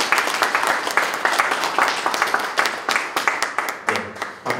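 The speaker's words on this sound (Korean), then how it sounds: "다시 한번 박수 부탁드립니다" Audience applause at the opening ceremony of an exhibition: dense, steady clapping from a crowd indoors, sustained throughout with individual claps standing out, loud and close.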